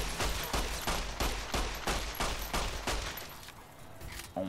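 Gunfire in Fallout: New Vegas comes as a rapid series of sharp, loud shots at an even rhythm for about three seconds, then stops. A few quieter sounds follow.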